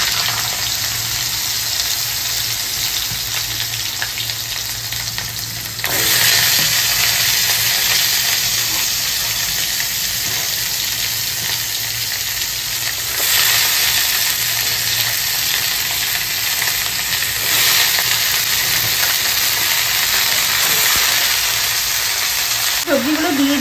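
Mixed vegetables with nigella seeds fry in a pan for a Bengali drumstick curry, giving a steady loud sizzle that jumps louder at two points as ingredients go in and are stirred, with no voice over it.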